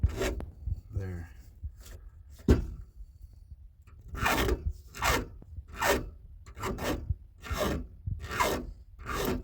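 A hand file rasps across the teeth of a Stihl MS261 chainsaw chain in a series of regular, close strokes, each a sharp scraping burst with short pauses between them.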